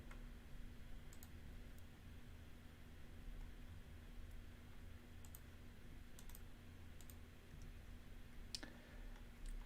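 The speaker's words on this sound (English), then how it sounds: "It must be riveting just hearing nothing but clicking." Sparse, faint clicks of a computer mouse tick out irregularly over a steady low electrical hum, with no one talking.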